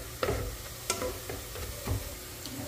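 Spoon stirring mutton pieces in hot oil in a pan as they lightly brown for a non-spicy mutton biryani, giving a few distinct scraping clinks over a steady low sizzle.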